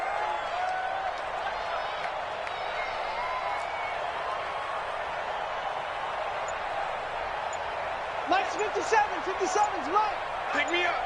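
Stadium crowd in an American football video game, swelling ahead of a big third down: a steady, distant roar of many voices that runs throughout, with sharper claps and shouts rising near the end.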